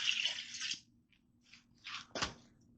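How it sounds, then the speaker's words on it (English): Water pours close up into a Ninja Foodi pot for rice pilaf, starting as a steady splashing rush, then breaking into a few short spills and a final splash. "Go ahead and get the water in there."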